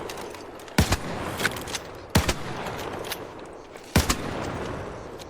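Gunfire in the video game Arc Raiders: three separate sharp shots or short bursts spaced over a few seconds, moderately loud above a steady background hiss of game ambience.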